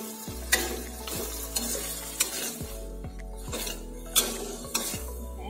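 Indomie noodles cooking in a pan with a little added water, a soft simmering sizzle with occasional spoon scrapes and light clinks against the pan, quiet and close.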